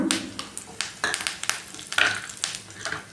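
Mustard seeds, chana dal and curry leaves crackle in hot oil as a tempering, with sharp close pops and spatters scattered over a low sizzle.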